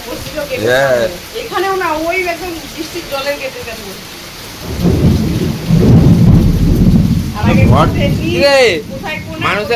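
People talk over steady rain, then a deep rumble of thunder rolls in loudly while the rain keeps pouring and voices continue.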